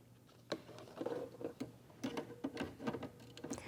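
An embroidery machine stitches a tack-down sequence on fabric in the hoop for a USB fob, producing quiet, irregular mechanical ticks and taps at close range.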